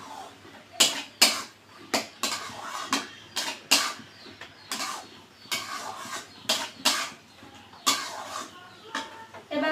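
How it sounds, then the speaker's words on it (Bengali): Cooked toor dal is stirred in a pot with a spoon, giving a string of sharp scraping and knocking strokes at an uneven rhythm, close and moderately loud, with quiet room noise between. "আমি আর একটু নাড়াচাড়া দিয়ে নেব।"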